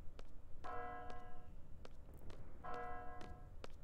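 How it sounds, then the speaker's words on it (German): A bell tolls in the video game Final Fantasy VIII, two clear resonant strikes about two seconds apart, fairly quiet, with faint footsteps and no talking. "Oh, die Glocke läutet."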